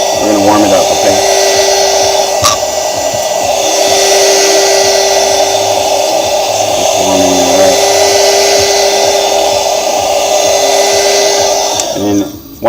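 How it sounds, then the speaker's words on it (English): A heat gun blows with a loud, steady whooshing roar as it is swept around the edge of an iPhone to warm it, running close and continuously throughout before cutting off near the end. "just have my little heat gun here and go around the edge."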